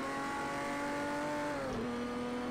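A Porsche race car in a video game brakes and downshifts into third gear for a right-left chicane, its engine tone holding steady and then dropping sharply as the revs fall, loud and close.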